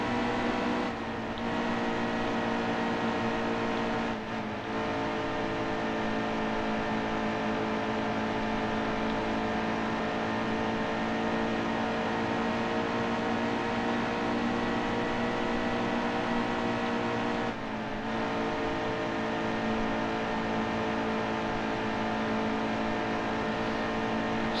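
Engine drone of NASCAR stock cars in the racing video game NASCAR Heat 2, a steady, loud harmonic roar held throughout the race with brief dips in pitch, running alone with no talk.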